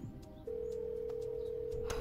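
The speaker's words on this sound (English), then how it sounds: "Please give me the phone that's ringing." A phone gives off a single steady electronic tone that holds for about a second and a half under faint background noise, with no talk.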